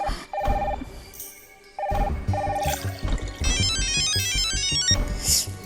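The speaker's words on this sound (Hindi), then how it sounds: "दीपू फोन उठा।" A phone ringtone chirps in short repeated bursts, then shifts to a brighter warbling melody over background clatter and rushing noise.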